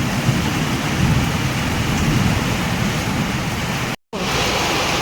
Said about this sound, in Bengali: এই বৃষ্টি হচ্ছে